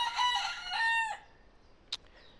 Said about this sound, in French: Celui-là, c'est un coq, c'est sûr.